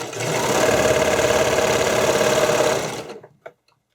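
A serger stitches elastic flat onto spandex fabric in a fast, steady mechanical whir at close range for about three seconds, then stops, followed by a few faint clicks.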